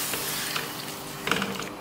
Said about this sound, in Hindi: इसके अंदर हम 1 प्याली पानी डाल देंगे, अच्छी तरह मिक्स करेंगे